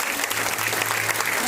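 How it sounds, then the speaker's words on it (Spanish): Sustained applause from a church congregation fills the room, a dense, even wash of many hands clapping at steady loudness throughout, with a low hum underneath and faint voices mixed into the crowd. "¿Le quieres dar un aplauso al Señor por su amor,"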